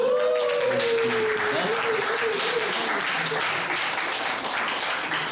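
Applause from a young adults' church worship service during a gift presentation, steady and sustained throughout, with a voice speaking over the clapping at the start.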